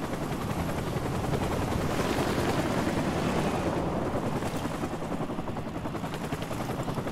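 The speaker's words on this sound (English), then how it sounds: "Chopper out first, mate." A video game military helicopter drones steadily with a thick, continuous rotor chop and rumble, loud and near throughout, with no voices.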